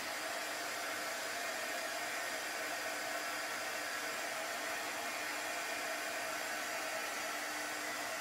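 A hair dryer blows continuously over wet chalk paste on a sign, a steady, even rushing hiss of moderate level with no talk over it.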